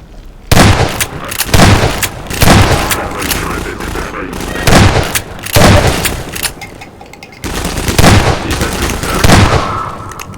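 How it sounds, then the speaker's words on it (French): Gunfire and explosions from the video game Half-Life: Lost Coast come in loud, repeated bursts of blasts and booms separated by brief lulls. "J'aime pas les explosions là."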